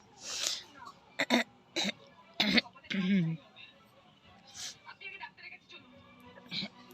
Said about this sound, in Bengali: গলাটা খুশখুশ করছে আর একটা কাশি উঠেছে